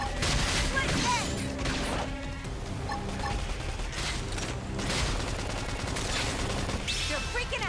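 Rapid bursts of gunfire and explosive combat effects rattle continuously during a battle in the video game Xenoblade Chronicles X, dense and loud throughout with brief voice lines mixed in.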